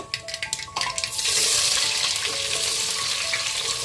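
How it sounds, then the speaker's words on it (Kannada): Mustard seeds crackle and pop in hot ghee for a moment, then chopped onions go in and the pan erupts into a loud, steady sizzle while they are stirred. "ಒಗ್ಗರಣೆಗೆ ಸಾಸಿವೆ ಹಾಕೊಂಡಿದ್ದಾರೆ. ಈಗ ಇದಕ್ಕೆ ಈರುಳ್ಳಿ ಹಾಕೊಳ್ಳೋಣ."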